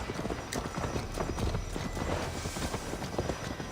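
A horse being ridden in Assassin's Creed Valhalla, its hooves clip-clopping in a steady galloping rhythm that stays close and continuous throughout.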